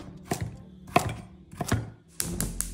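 A knife chops carrot on a cutting board in a few distinct, uneven strokes, close and fairly quiet, with nothing else heard.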